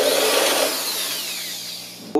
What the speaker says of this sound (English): Got our little drill here.